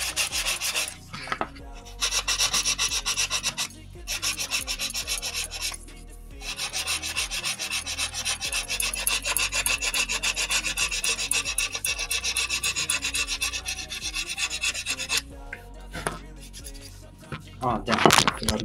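A nail file sands wood planking on a model ship hull, a close, steady rasping scrape in rapid strokes with a few brief pauses between passes.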